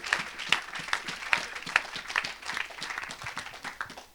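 A church congregation claps during a worship service, rhythmic sharp handclaps in a steady beat of about two per second, fairly close and lively, continuing through the whole stretch with no talk.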